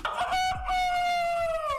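A rooster gives one loud, close cock-a-doodle-doo crow with a long sustained final note. A brief cluck comes before it, and nothing else is heard.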